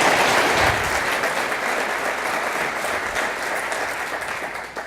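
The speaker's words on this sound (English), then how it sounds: "please, let's give him a round of applause" A conference audience at an annual meeting and exhibition in San Francisco claps steadily, a dense, even wash of applause that starts strong and slowly fades over several seconds, with no one speaking.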